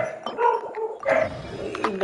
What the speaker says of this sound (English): I apologize for the dogs outside.